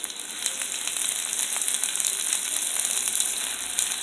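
Chopped onion fries in a tablespoon of hot oil in a pan for chickpea bhuna while being stirred, making a continuous moderate hiss with faint scraping clicks over four seconds.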